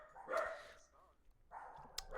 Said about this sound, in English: there's dog